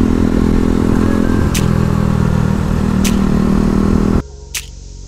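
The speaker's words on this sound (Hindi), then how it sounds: "दो KTM साथ चलते हुए क्या लगती है, वो भी अपनी अपनी लीग की, एक ड्यूक और एक आरसी।" Two KTM motorcycles, a Duke and an RC 390, ride together on a hill road in Kangra, giving a loud, continuous engine roar with wind rush that cuts off abruptly near the end.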